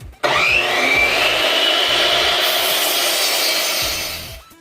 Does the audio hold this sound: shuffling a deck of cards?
no